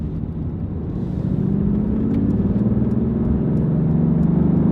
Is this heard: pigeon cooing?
no